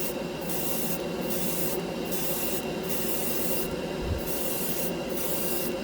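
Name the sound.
airbrush spraying Mr. Color lacquer paint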